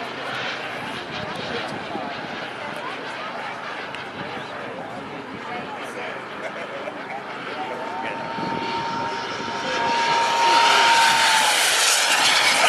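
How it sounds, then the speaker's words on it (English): Model jet airplanes fly at an aeromodelers' fly-in air show, their engines making a steady, sustained roar that grows louder toward the end as a plane passes close, with people's voices mixed into the background. "right now you're seeing planes that are going 200 miles an hour"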